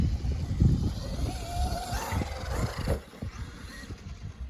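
A Traxxas Maxx V2 RC monster truck drives past, its electric motor whining and rising in pitch over the rough rumble of tires on the ground, fairly close and with no voices.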